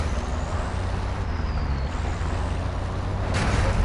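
Truck in Call of Duty Warzone 2.0, a steady low engine rumble with air-brake hiss, continuous and fairly close, swelling slightly near the end.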